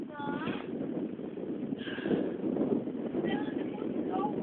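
Wind buffets a phone microphone aboard a boat, a constant low rumbling roar under a person talking close by.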